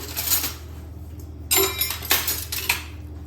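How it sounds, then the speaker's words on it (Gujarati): A spoon stirs a tamarind, jaggery and date mixture soaked in hot water, making a few bright clinks and scrapes against the bowl in quick, uneven bursts up close. "ચમચી વડે મિક્સ કરી લઈશું."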